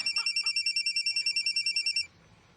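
A cellphone rings with a rapid, repeating electronic trill in a steady pulsing pattern, moderately loud and alone, then stops abruptly near the end, leaving faint background noise.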